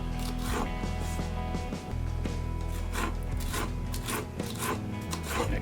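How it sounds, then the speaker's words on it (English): A knife rapidly minces cilantro and jalapeno on a wooden cutting board, producing close, continuous rhythmic chopping and scraping strokes. "we're gonna do a fine mince"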